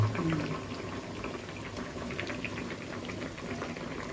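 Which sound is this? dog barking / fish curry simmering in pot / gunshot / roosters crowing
fish curry simmering in pot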